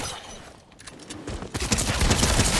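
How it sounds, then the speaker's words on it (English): Rapid fire from the Shadow Tracker gun in a video game, a quiet start building into a dense, loud burst of shots in the second half. "Bro, Dylan, what gun is that? The Shadow Tracker."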